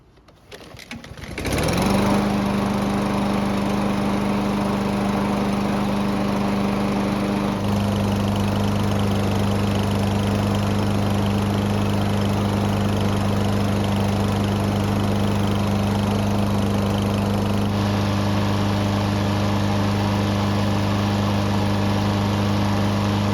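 A small lawn mower engine runs steadily at idle for minutes to warm its oil, a loud continuous drone with a steady hum that shifts pitch slightly partway through, no voices.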